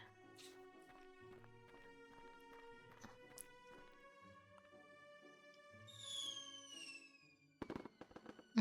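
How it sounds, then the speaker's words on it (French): Fireworks in the Island Market Simulator game, faint sparse pops and crackles over a soft tonal musical background, with a brighter burst near the end. "ça fait des feux d'artifice."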